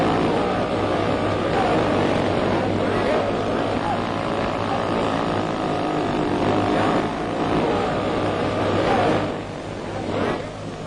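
A model airplane engine drones continuously through a stunt flight, its buzzy whine swelling and fading as the plane passes, loud and steady for the whole stretch beneath some background noise.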